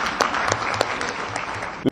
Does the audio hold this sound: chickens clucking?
no